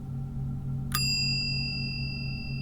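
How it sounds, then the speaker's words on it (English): A single bright bell chime rings once in the video game Blue Prince, a clear metallic ding with sustained ringing overtones that fade slowly over a low steady background hum. "ringing the bell is way more fun"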